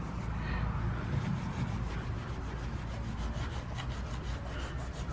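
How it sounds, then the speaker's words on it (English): A microfiber towel rubbing chrome cream into a chrome surface, a steady close-up scrubbing and swishing texture running throughout without a break. "I'm just going to take a corner of a microfiber towel and literally just rub it in."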